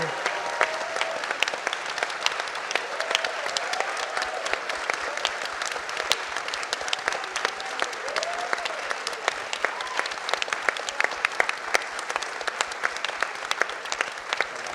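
Sustained applause from a large audience at a film Q&A panel, steady and dense clapping throughout with faint crowd murmur underneath.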